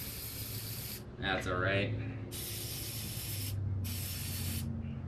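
Paint sprayed from an aerosol can onto a rusty custom generator exhaust pipe on a cube van, in two long loud hissing bursts with a short break between them; someone speaks briefly between the sprays.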